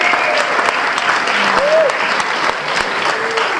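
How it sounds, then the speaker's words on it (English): An audience at an environmental restoration conference applauds its storytellers, with loud, dense, continuous clapping up close and a few faint voices mixed in. "One more round of applause for our 4 storytellers this morning"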